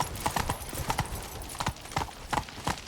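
Hooves of Roach, a horse in the video game Witcher 3, clip-clop in a steady trotting rhythm, close and clear, with a few quieter surrounding game sounds.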